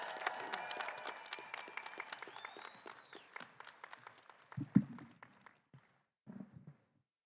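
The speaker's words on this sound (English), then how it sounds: "Let's have one more round of applause for our two amazing students." Crowd applause at a community college commencement, lively clapping that thins out over several seconds, followed by scattered claps and faint talk.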